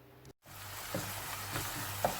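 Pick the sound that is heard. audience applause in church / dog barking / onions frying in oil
onions frying in oil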